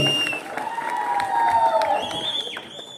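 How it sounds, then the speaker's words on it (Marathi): Crowd applause and cheering at a Shiv Sena public rally for Pramod Bhosale, a sustained outdoor ovation with whoops, under loud announcer talk. "एकदा जोरदार टाळी"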